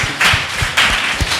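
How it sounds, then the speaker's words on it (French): Claps from an audience at a talk on culture and traditional values, sounding as a few loud, spaced bursts across a short stretch rather than a full sustained ovation. "Donc sous vos applaudissements, s'il vous plaît."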